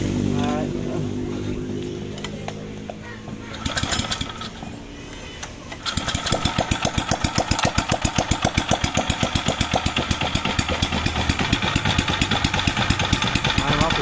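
A gasoline brush cutter engine idles unevenly at first, then revs up into a steady, loud, rapid buzzing drone close by, with someone talking over it early on.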